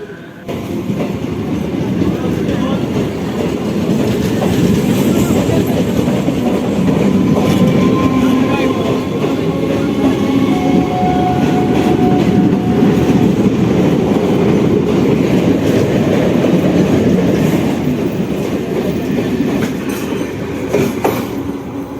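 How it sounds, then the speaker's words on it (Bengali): A passenger train departing Ranaghat station rumbles loudly and steadily nearby, wheels clattering on the rails with occasional high squeals, continuous throughout with no clear speech. "এই ট্রেনটি এখন চলে যাবে লালগোলা"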